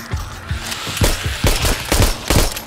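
Rapid bursts of gunfire in the VR zombie game Arizona Sunshine, a dense string of loud repeated shots about twice per second over a constant background.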